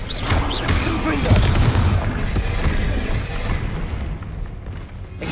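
A fire blast spell exploding in the video game Hogwarts Legacy: a dense, loud rumble of booming bursts and crackling impacts rolling on without pause, with voices heard faintly amid the din.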